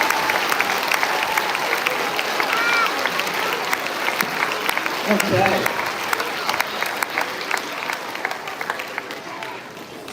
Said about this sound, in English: Could we give our departing families a round of applause?